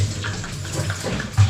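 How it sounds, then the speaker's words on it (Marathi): Tap water runs steadily into a bottle being filled at home, a continuous close gushing splash that holds for the whole moment with no talk over it. "आमच्याकडे पाणी आलेलं आहे, तर बॉटल आपण व्यवस्थित भरून ठेवतो"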